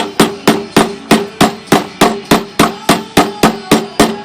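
Hammer driving screws, about a dozen sharp, evenly spaced metallic blows in quick steady rhythm, close and loud with no talking.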